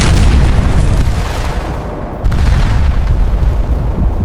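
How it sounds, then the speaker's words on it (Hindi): A loud, sustained explosive roar with a deep rumbling boom from a mid-air collision between a Saudi airliner and a Kazakh airliner, briefly dipping before surging again, dense and overwhelming throughout. "और फिर दोनों की आकाश में खतरनाक टक्कर।"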